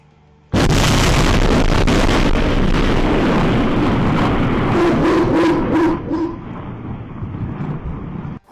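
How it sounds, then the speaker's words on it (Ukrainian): A loud blast from a drone strike in Belgorod, Russia, erupts and rolls into a sustained, roaring rumble of heavy explosions, with a dog barking repeatedly partway through as it fades. "У російському Білгороді пролунала серія потужних вибухів."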